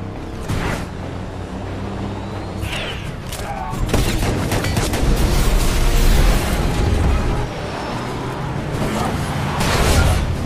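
A truck explodes during a chase in a Mad Max film. Heavy booming blasts and rumbling debris surge through a dense, chaotic action mix, with loud bursts swelling and fading over several seconds.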